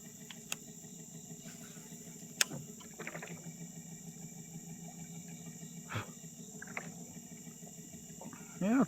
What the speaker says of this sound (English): Yeah, trolling motor's working fine.